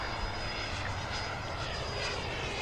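An HSD Super Viper RC jet at full throttle gives a steady, loud, continuous electric ducted-fan whine and roar that holds constant throughout, with no speech.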